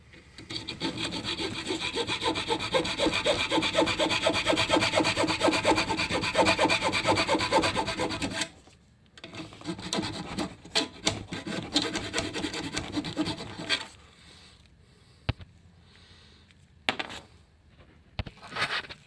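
Steady, loud rasping strokes of trimming a part to fit while replacing the radiator on a 2.4L Dodge Dart, running for about eight seconds, then a few scattered scrapes and taps.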